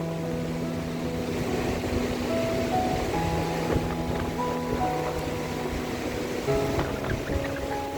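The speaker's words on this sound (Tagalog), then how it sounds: "Lakas ng alon, no?" Strong storm waves crash and surge on a beach at Nasugbu during Typhoon Carina, a constant roaring wash of surf with heavy wind noise buffeting the microphone, no speech over it.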